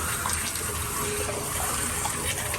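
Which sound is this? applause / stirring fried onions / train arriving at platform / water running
water running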